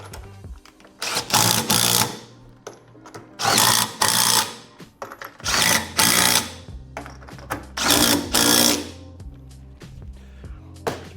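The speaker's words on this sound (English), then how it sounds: "You can use a ratchet if you've got a power tool." A power tool spins off 13 mm bolts on a CW8518 18 kg washing machine during a bearing change, in four or five loud whirring bursts separated by short pauses and quieter mechanical clicks.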